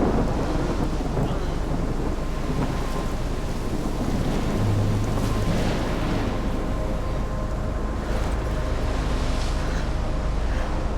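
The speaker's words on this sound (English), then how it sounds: "I've never seen a storm like this in Oregon." A heavy thunderstorm from the Life is Strange video game, set in Oregon, roars continuously with dense loud rain and deep rolling thunder filling the whole stretch, with no talk over it.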